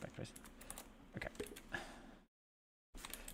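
Computer keyboard keys are pressed in quick, uneven taps close to the microphone, the arrow keys used to rotate a camera view, followed by a short dead silence and then more faint tapping.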